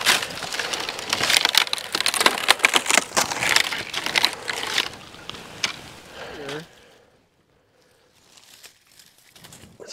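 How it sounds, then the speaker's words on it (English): A knife carves a feather stick one-handed outdoors in the woods, shaving wood in quick, dense scraping strokes for about six seconds before falling nearly silent, then resuming faintly. "I think I can do a feather stick with my knife one-handed with this"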